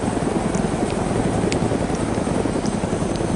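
A helicopter in the video game DayZ, its rotor giving a steady, close, rumbling thrum that fills the whole clip, with occasional faint clicks above it.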